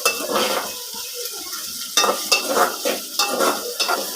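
Onions and dried red chillies frying in a pan, with a steady sizzle under repeated scraping and stirring strokes of a spoon against the pot, close and moderately loud throughout.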